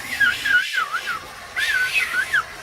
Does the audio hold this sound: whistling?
yes